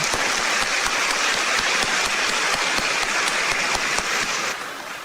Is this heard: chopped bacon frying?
no